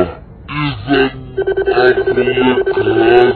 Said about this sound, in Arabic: أغلق هذا الجوال الملعون.